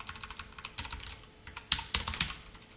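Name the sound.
typing on a computer keyboard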